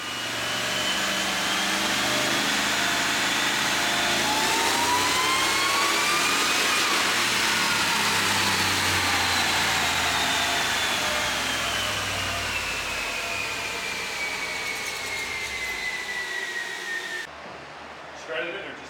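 Supercharged big-block Chevrolet Suburban engine on a chassis dyno in third gear, a loud sustained pull with pitch climbing steadily, then easing off and cutting out near the end.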